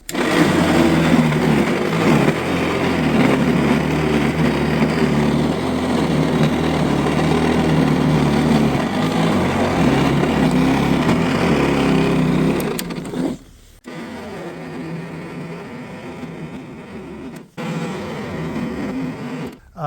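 Battery-powered AI Volt electric snow shovel clearing a couple of inches of snow, a loud, steady whirring motor drone for about thirteen seconds that then cuts out and restarts in shorter bursts.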